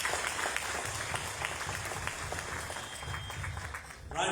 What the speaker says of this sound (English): So a big, huge round of applause for the CMH group.